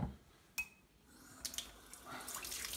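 Hot water runs from a tap with faint, splashy trickling and a few small clinks of glassware, quiet and close, rising toward a steadier flow at the end.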